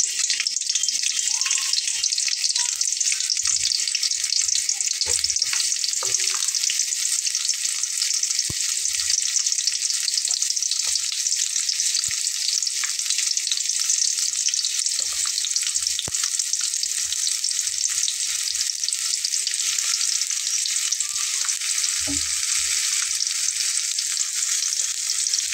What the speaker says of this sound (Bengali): তেলটা একটু গরম হয়ে গেলে তখন মাখিয়ে রাখা এটা এভাবে দিয়ে নেব কাঁকরোলটা